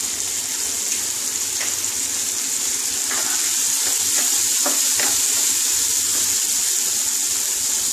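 Turmeric goes into hot oil for a mustard fish curry over a raised gas flame, giving a continuous bright sizzle that holds steady throughout, with a few faint clicks of a utensil.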